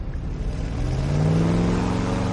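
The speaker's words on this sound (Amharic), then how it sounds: "ሰውዬ ሞተሩን አስነሳው! ፍጠን ፍጠን!" A car engine revs hard, its steady mid-pitched hum rising into a louder, higher drone partway through, close and continuous with no voices.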